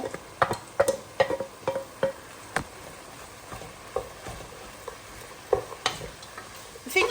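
Chopped onion, spring onion, red pepper and carrot go into a hot pan and are stirred for a stew, giving soft sizzling under repeated scraping and clacking of a utensil against the pan, close and fairly loud.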